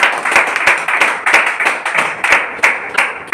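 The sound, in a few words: audience clapping at a seminar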